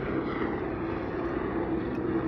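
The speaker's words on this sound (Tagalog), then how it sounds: "May hinahanap atang helicopter na to, ah." A helicopter circling overhead gives a steady, continuous engine drone with a low rumble, constant in loudness and alone without talk.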